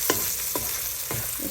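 Seasoned beaten eggs scramble in a hot frying pan, a steady close sizzle broken by three scraping spatula strokes at regular intervals, with no voices.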